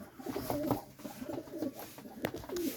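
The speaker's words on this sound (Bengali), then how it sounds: "খুবই অসাধারণ কবুতর" Teddy pigeons kept for sale cooing softly and repeatedly in a close, low, rolling murmur that continues throughout, with faint background noise.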